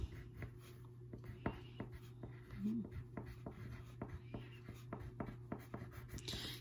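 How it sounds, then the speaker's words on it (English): A crayon scratches across paper while a name is written at the top of a pilgrim worksheet, making faint, intermittent strokes over a quiet room hum. "So what we need to do first is write our name at the very top."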